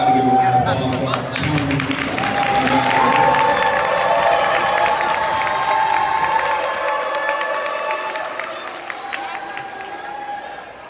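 A crowd at a middle school sports awards ceremony breaks into sustained clapping with cheers and high shouts from children, swelling to a loud peak before gradually fading out, with voices calling over the applause.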